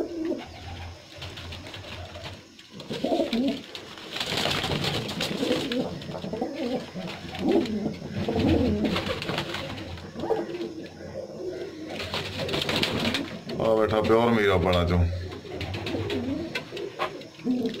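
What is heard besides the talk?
pigeons cooing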